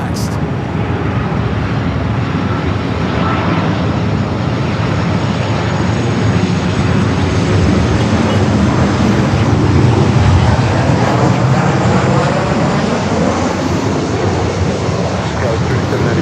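An airliner lands at Los Angeles airport with a steady, loud engine roar and broadband rumble throughout, while a voice talks over it.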